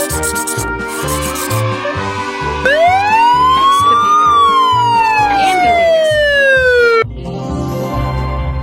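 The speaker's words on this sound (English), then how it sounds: "Ambulance." Loud ambulance siren close by, rising and falling wail over a rapid electronic yelp, switching patterns partway through.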